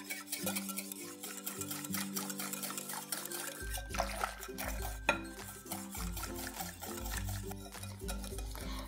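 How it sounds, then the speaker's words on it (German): Flour whisked smooth into Kaiserschmarren batter in a bowl, a rapid run of light clicking whisk strokes over soft background music. "das wird einfach jetzt nur mit dem Schneebesen glatt gerührt"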